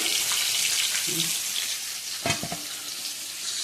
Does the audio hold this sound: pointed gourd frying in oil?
yes